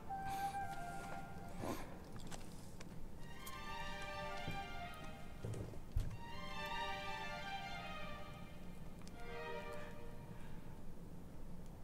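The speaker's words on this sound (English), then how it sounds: "look at how this horse is walking" A horse walks in Shadow of the Colossus Remastered with a soft, steady clip-clop of hooves under a faint ambient hum, while harmonic tonal sounds that could be voice or music drift in and out.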